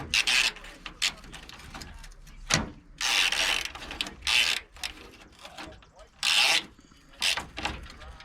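Ratcheting wrench removing bolts from a rusted radiator support on a Ford Bronco: bursts of quick mechanical clicking in several short spells, close by with pauses between.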